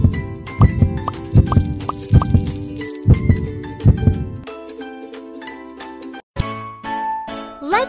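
Stethoscope heartbeat in a kids' doctor game: a steady series of soft, muffled double thumps under bright chimes and tinkling jingles, then the beats stop and a few louder chime effects ring out alone.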